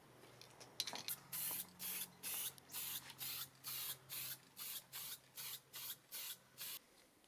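A rattle can of spray paint hisses out in about fourteen short, even bursts in a steady rhythm. A faint clunk comes first, then a low hum beneath. The bursts are close and quiet, with no talking.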